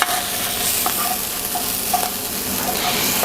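Garlic fries in leftover bacon fat in a frying pan, a bright, dense sizzle with a few light scraping stirs and clinks scattered through it.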